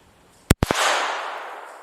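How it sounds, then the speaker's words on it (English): A Beretta M9A1 .22 pistol fires Aguila subsonic hollow points at close range: a sharp crack followed at once by a second report, then a long decaying echo, with no talking. "Aguila subsonic hollow points at 5 yards out of the Beretta M9A1 22."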